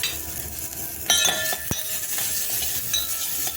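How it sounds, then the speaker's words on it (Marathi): Dry fruits and raisins sautéing in a little ghee give a quiet sizzle, with spoon clinks and scrapes against the pan close by. "आता अगदी अर्धा चमचा तूप घातले यामध्ये आपण जे घेतलेले ड्रायफ्रुट्स आहेत ते थोडेसे परतून घ्यायचे"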